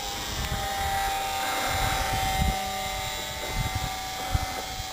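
A HobbyZone Super Cub RC plane with a brushed motor flies at about two-thirds throttle, giving a steady, buzzing electric whine that holds at a fairly constant level throughout, with slight wind rumble.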